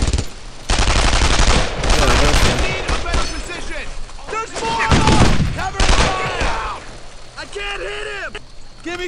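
Rapid machine-gun bursts and rifle fire in a World War II shooter game, loud dense volleys with someone shouting over the gunfire.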